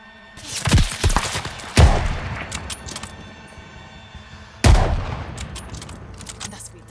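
Three heavy gunshots boom out in a Call of Duty firefight, each a sharp loud crack with a rumbling tail, spaced a few seconds apart over quiet background noise.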